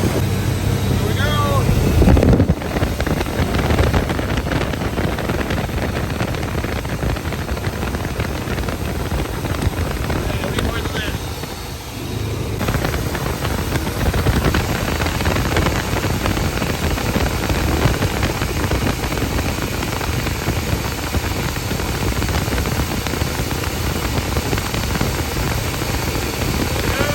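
A 1985 Chevy Suburban C20 engine running loud and steady up close, its broad roar holding nearly constant with a brief dip partway through, while someone talks over it.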